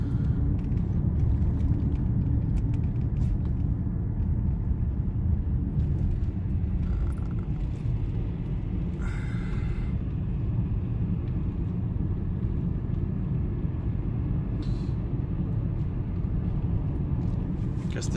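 A 1997 Nissan Maxima engine idles steadily up close, a constant low rumble with faint rattles that holds through the whole stretch with no voices over it.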